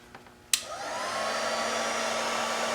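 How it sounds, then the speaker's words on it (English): A heat gun blowing hot air onto shrink tubing over a wired connection on a MAG strap: a sharp click as it switches on, then a steady, loud, even whoosh that holds to the end. "hit it with the heat gun"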